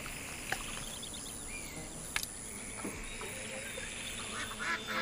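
Ducks raised in a rural valley call with a few faint, scattered quacks over steady outdoor ambience, without any talking.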